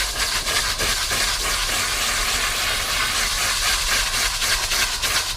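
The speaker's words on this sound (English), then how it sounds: "here we go with some steam on it" Steam cleaner blasting steam onto a stain in the interior of a 1990 Honda Civic, a loud, continuous broadband hiss that holds steady throughout with slight flutter, close to the source.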